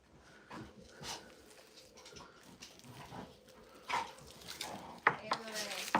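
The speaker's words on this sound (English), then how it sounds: "You guys can hear our dogs wrestling in the background." Pet dogs wrestling and playing in the background of a room, giving scattered whimpers, yips and scuffling bursts that grow louder toward the end, with faint voices murmuring at times.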